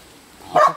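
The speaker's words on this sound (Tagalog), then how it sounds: "Ang dami na ng aso." A single short dog bark rings out at moderate distance over faint background noise at a campsite on Mt Parawagan, Rodriguez, Rizal.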